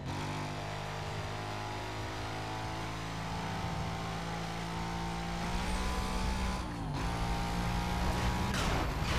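Loud, sustained car engine drone with rising revs and gear changes while driving fast in the video game Need for Speed Most Wanted, continuous and close throughout.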